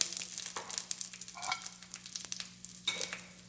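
Curry leaves, dried red chillies and a pinch of asafoetida crackle in hot oil for mango rice, quiet bursts of sizzling and spluttering rising and falling over a low background hum, with no talk.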